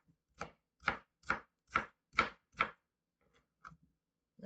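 A knife chops through a pineapple on a board, making six evenly spaced crisp cuts close by, followed by a few quieter taps and knocks, with no talking.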